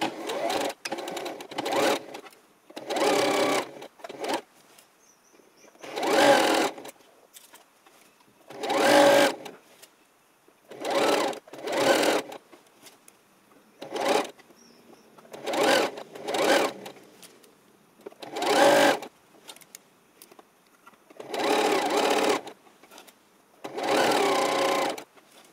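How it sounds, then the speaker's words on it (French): Sewing machine stitching a dress seam 1 cm from the edge, joining the top and bottom, running in repeated bursts of fast whirring with short pauses between, close and loud, no talk. "on va coudre à 1 cm du bord tout autour pour assembler"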